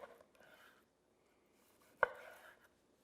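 A knife slicing through thick cooked steak gives one sharp, close cut at the board, with some quieter rustling before it and a short tail of softer sawing after.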